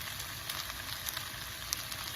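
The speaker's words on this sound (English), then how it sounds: "Now I'm going to add our curry leaves." Curry leaves, stems still attached, sizzling as they drop into hot oil in a pot for a snake gourd and cowpea dhal curry, a steady crackling fry with small pops throughout.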